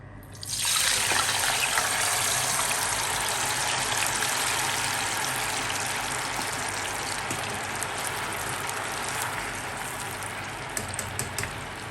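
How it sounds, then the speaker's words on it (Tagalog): Wet tofu frying in hot cooking oil for tofu sisig, a steady loud sizzle and crackle that starts abruptly and keeps up with dense spattering throughout, no voices. "So, bali mag-ingat lang tayo sa pagpiprito ng tofu kasi diba nakababad yun sa tubig."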